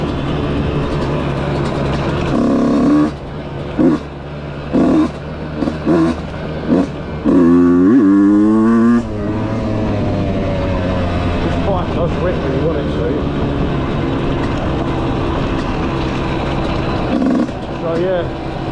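A dirt bike engine revs and drones steadily during an afternoon trail ride, rising in a sharp acceleration burst midway, with a person talking over the engine noise throughout.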